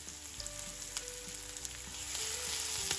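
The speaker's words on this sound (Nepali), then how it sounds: "अब हामी यसलाई बिस्तारै चलाउँदै फ्राई गर्छौँ।" Chopped onion and cumin frying in oil in a pan over medium heat, giving a soft, steady sizzle with a few faint clicks of stirring, quiet and close, with no voices.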